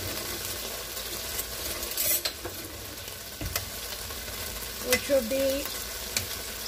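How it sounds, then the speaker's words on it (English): Sofrito sizzles in a pot for Puerto Rican style chicken soup, a soft steady frying hiss with occasional utensil clinks and stirring, close by, while someone speaks briefly. "We are going to put in our sofrito."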